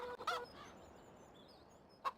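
Chickens in the Farming Simulator 17 video game give short faint clucks and squawks, one burst near the start and another near the end, over quiet background hiss.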